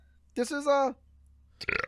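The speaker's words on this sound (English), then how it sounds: "sorry, I got burp." A single loud, drawn-out burp close to the mic, followed by a short burst of someone talking.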